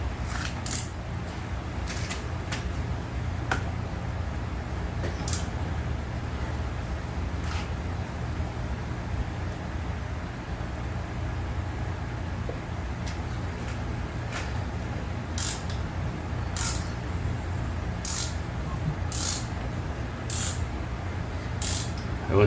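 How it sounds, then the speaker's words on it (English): A ratchet rolls over an engine crankshaft, giving irregular crisp metallic clicks and pawl snaps over a low steady hum, coming in scattered bursts that cluster more densely toward the end. "roll the motor over until I see 50 thou open on my dial indicator"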